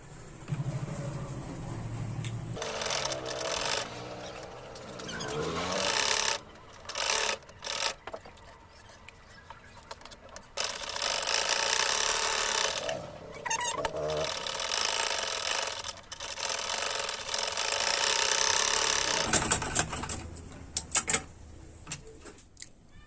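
A domestic sewing machine runs in bursts of whirring, ticking stitches along the edge of a half-collar blouse. Short pauses and a few close rubbing handling sounds break up the runs.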